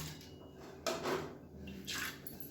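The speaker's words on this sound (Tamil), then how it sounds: "இப்போ இதை நான் தண்ணியோடு அப்படியே சேர்த்துக்கிறேன்" Soaked toor and moong dal poured with their water into a cooking pot, a soft splashing pour in two bursts over a low background hum.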